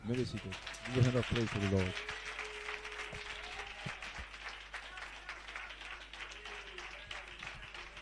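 A church congregation at a French-language service breaks into applause. A voice speaks briefly at the start, then a steady wash of many hands clapping fills the room and continues evenly at a moderate, somewhat distant level.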